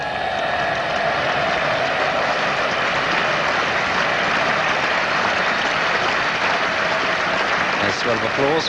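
A cricket crowd at the 1986 NatWest Trophy Final, Sussex versus Lancashire, applauds the team's 100 up with a dense, even patter of clapping throughout, while a commentator talks over it.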